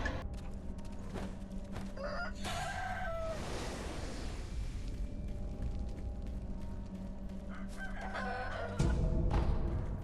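A chicken clucks and squawks in a few bursts from a game, fairly quiet against a steady low background hum, with a brief louder thump near the end.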